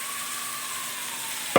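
Jerk chicken coated in spice and lime juice sizzles in a hot frying pan with a constant, bright hiss, and a brief scrape of stirring comes right at the end.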